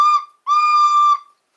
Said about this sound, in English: I have my bells and my whistles.